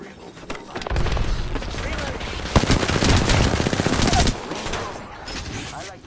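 Sustained rapid automatic gunfire in Apex Legends, dense rattling bursts lasting several seconds and loud up close, with a sharp heavier shot partway through before the firing cuts off.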